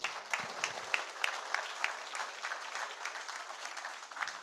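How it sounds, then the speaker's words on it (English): Applause from an audience, steady hand clapping that carries on throughout at a moderate, somewhat distant level. "Please give David a big round of applause"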